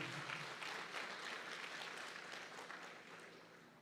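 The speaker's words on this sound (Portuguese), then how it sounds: "Você pode aplaudir o Senhor mais uma vez?" Congregation applauding in a Portuguese-speaking church service, a dense, even wash of clapping that holds steady then slowly fades, heard from within the hall.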